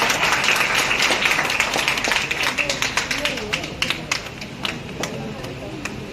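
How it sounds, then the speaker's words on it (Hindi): An audience at a Teachers' Day honours ceremony held by a Rotary Club bursts into dense, sustained applause that thins to a few scattered claps toward the end, with speech mixed faintly underneath. "जोरदार तालियों से स्वागत करें"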